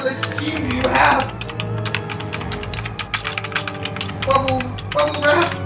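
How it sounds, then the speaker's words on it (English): Rapid clicking keystrokes on a computer keyboard, tapping in bursts across the whole stretch, fairly close, with a voice talking over part of it. "What are you typing in?"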